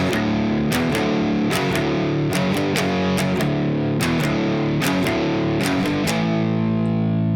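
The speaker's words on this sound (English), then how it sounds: "and then we'll repeat that part." Heavily distorted electric guitar plays the verse riff of a song, with sustained driven chords broken by quick rhythmic accents. It sounds loud and close, with no voices.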